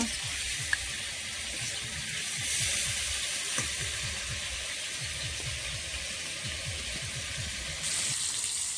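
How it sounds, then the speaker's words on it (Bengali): Cauliflower frying in oil gives a constant sizzling hiss, with soft bubbling and a few faint clinks from a pan underneath, no talking. "এবার ফুলকপিগুলো ভালো করে ভেজে নেব"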